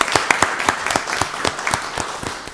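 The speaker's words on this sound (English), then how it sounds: "Let's give her another round of applause." A round of applause at a county board of commissioners meeting, with loud distinct claps in a fairly regular rhythm over a softer background of clapping from the room.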